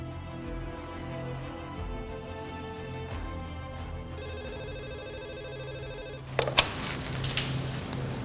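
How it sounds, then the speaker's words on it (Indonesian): A telephone rings out on an outgoing call, a steady repeating ring tone that continues for several seconds before a brief louder clatter near the end. "Aku coba telepon sekretaris papa deh."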